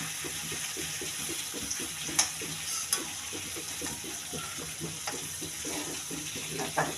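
Vegetable pieces tossed and stirred into a frying pan of sautéed green chilli, ginger, curry leaves and onion give a steady run of soft, rhythmic scraping and wet stirring, fairly quiet and even, with no voices.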